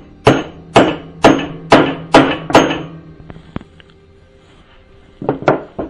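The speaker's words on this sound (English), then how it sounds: "just simply you get a hammer, put the point of that on there and go" A hammer strikes a centre punch on wood for woodturning six times in a quick, even rhythm with sharp metallic taps, followed by a pause and a few more taps.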